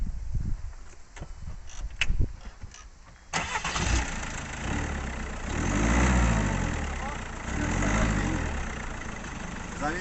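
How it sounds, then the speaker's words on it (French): A Peugeot 206 SW with a 1.6 HDi 110 hp diesel engine in stage 1 tune cranks and fires, then settles into a loud, close, rough rhythmic idle with gentle rev swells; people talk briefly just before it starts. "Les amis, voilà le bruit du HDI si connu."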